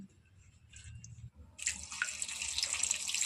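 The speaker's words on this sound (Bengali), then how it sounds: "আর একটু জল দিয়ে দিচ্ছি" Water runs from a tap into a pot holding banana flower set to boil with turmeric and salt: faint kitchen sounds first, then a loud, steady stream splashing for the last couple of seconds.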